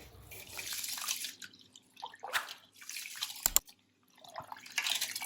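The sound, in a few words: rice being washed in water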